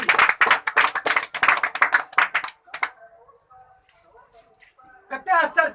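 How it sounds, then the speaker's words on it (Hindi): An audience at a comedy magic show claps in brisk, dense bursts of applause that stop abruptly, followed by quieter talk and a brief return of clapping at the end. "सब देख ताली लिए। देना चाहिए ना। ताली ताली।"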